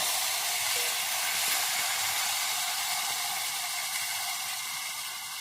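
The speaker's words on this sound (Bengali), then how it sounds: "পেঁয়াজটা আমি ভালো করে এক মিনিট ধরে কষিয়ে নেব" Onion paste sizzles in hot oil with cumin seeds tempered in it for an egg curry, giving a steady, dense hiss that stays loud and close throughout, with no voices.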